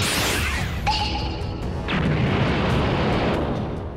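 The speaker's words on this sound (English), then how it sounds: "Firing a death beam at the man, Frieza makes a crack" Anime energy death beam fired by Frieza in Dragon Ball Super: a loud, dense blast with a sweeping whoosh, a bright sustained ringing beam, then a heavy rumbling explosion that roars on to the end.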